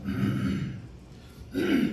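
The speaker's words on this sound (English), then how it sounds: "let me clear my throat with the mic" A rough, breathy throat clearing, a gravelly burst that fades and then returns once more, close to the microphone.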